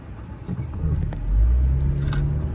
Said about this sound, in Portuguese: Agora vem muito carro, eu tenho que esperar